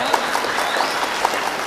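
A crowd at a mushaira opening ceremony in the Harra Nagar Panchayat grounds claps for their chairman, giving a brief, steady wash of applause throughout.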